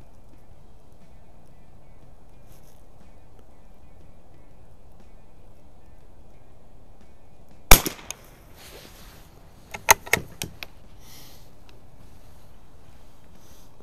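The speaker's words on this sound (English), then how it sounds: "I'm just shooting 25 yards." A 1930s German BSW KKW .22lr target rifle fired at a 25-yard outdoor range in breezy conditions, heard as a single sharp crack followed by a few quieter snaps and clicks over steady wind noise.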